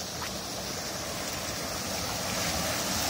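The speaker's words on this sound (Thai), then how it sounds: "น้ำไหล" Steady broadband rush of flowing water from a waterfall or stream, continuous and fairly close, with no voices over it.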